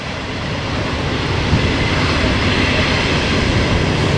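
Helper locomotives shove a freight train up Cajon Pass, producing a loud, sustained diesel roar and rolling rumble that holds steady throughout without speech.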